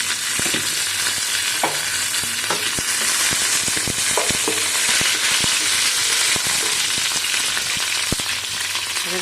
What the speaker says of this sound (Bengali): তেল গরম হয়ে গেছে, শুকনো লঙ্কা দিয়ে দিচ্ছি, কারি পাতা দিয়ে দিচ্ছি, সরষে দিয়ে দিচ্ছি